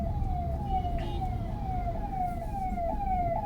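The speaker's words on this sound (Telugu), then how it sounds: "అంబులెన్స్ ఉంటుంది." A wailing ambulance siren repeatedly sweeps up and down in steady cycles over a constant rumble of road traffic, loud and continuous, with no voices.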